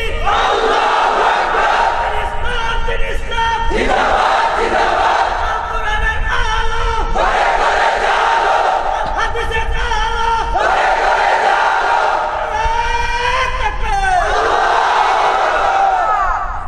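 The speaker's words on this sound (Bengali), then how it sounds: "জোরে একটা স্লোগান দেন তো দেখি।" A large crowd at a Bangla waz mahfil roars a slogan in loud repeated unison bursts, each chant rising and falling in a steady call-and-response rhythm, close and dense throughout.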